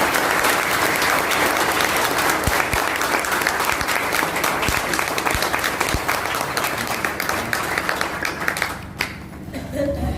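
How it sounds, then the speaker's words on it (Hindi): A seminar audience breaks into loud, sustained applause, dense overlapping clapping that fills the hall for about nine seconds before tapering off sharply. "ताली बजा सकते हैं एक बार?"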